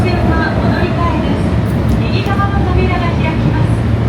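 Interior of a moving LRT train in Osaka, a loud steady rumble with rattling and squealing over it, while people talk throughout.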